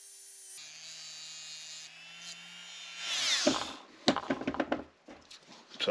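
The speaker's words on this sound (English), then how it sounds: "I made the hole a little smaller. I just used my Dremel" Dremel rotary tool grinding out a hole in a plastic model part, a steady high whine for several seconds, then bursts of harsher grinding contact with knocks and scrapes as the bit bites into the piece.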